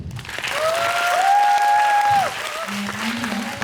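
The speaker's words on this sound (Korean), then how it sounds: "방금 영화를 보셨는데 여러분께서 보내주신 이 박수가 진심으로 우러난 박수이길 바랍니다" Audience applause after a film screening in Busan, sustained clapping from a theater crowd with a brief tonal feedback whine over it and a low hum near the end.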